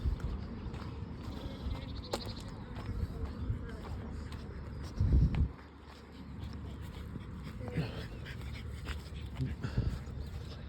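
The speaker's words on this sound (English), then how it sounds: "Little doggy." A small dog makes a few faint yips and whimpers in the background while a person talks quietly nearby.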